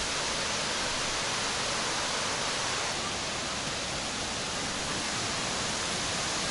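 Waterfall at Clifty Falls State Park roaring as a steady, dense broadband rush of falling water, loud and continuous with no voices.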